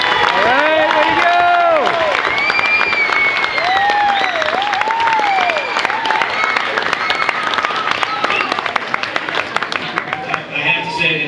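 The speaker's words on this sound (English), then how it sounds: "So, big round of applause for them." Loud crowd applause at a 2012 age-group awards ceremony, dense continuous clapping mixed with whoops, cheers and shouting voices throughout.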